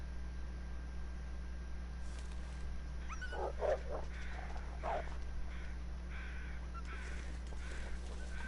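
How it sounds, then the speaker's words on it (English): Crows cawing as they fly overhead in the survival video game The Long Dark, several rough caws in short clusters at a middling distance over a constant low wind drone, no talking. "Those crows flying over."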